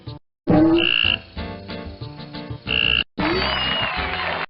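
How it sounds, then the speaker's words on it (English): Cope's tree frog calls play loud and close in a 1999 Magic School Bus animal-themed CD-ROM game: several harsh, buzzing croak bursts separated by brief pauses, with no other sounds. "That was without a doubt the sound of the Cope's tree frog."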